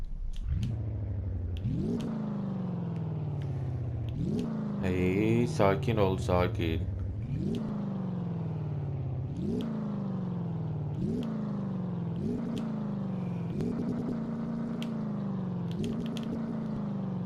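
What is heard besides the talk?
Ford GT40 engine revving in Car Mechanic Simulator video game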